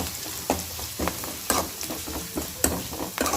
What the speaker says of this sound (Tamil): இதில் 3 பச்சை மிளகாய் எல்லாத்தையும் சேர்த்து நல்லா வதக்கிக்கணும்